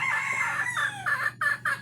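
Labuyo jungle fowl rooster crowing close and loud, a single drawn-out call breaking into several short clipped syllables toward the end, with no other sounds.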